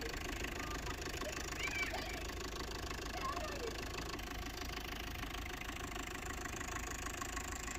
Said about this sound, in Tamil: வண்டி சவுண்ட் பாருங்கள்.